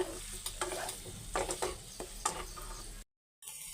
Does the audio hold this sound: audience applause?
no